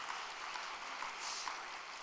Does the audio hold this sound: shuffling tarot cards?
no